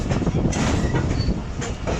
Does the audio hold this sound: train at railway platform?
yes